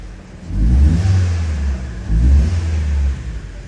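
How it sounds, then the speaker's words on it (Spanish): A Chevrolet Cruze engine revs twice as the accelerator is pressed, each rise a loud, close low rumble lasting about a second before it settles back to idle. "acelero el vehículo"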